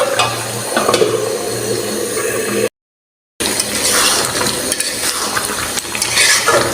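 Chicken curry with whole garlic sizzles loudly in the pan while being stirred and scraped, broken by a brief moment of silence midway.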